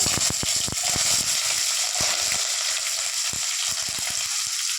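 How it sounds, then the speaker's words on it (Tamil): Mustard seeds and onions fry in hot oil, a bright dense sizzle with rapid popping crackles of spluttering seeds, loud and close with no talking. "கடுகு போட்டுக்கலாம் போட்டு வெங்காயத்தை போட்டுக்கலாம்"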